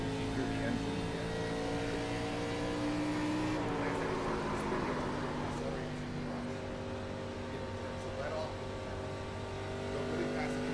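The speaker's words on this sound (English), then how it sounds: "Hear the engine again." A race car engine in the iRacing sim drones steadily with strong layered tones, shifting pitch slightly partway through and holding a constant, close level throughout.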